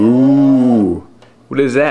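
A toy animal sound plays a loud, drawn-out cow moo, then a pause before a brief voice cuts in with a question.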